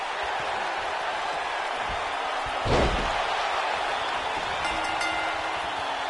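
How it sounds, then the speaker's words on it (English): A single heavy slam thuds onto a wrestling ring as a face breaker lands in a regional wrestling match, one sharp impact midway through a steady wash of arena crowd noise. "The face breaker knocks Crushing Kelly out."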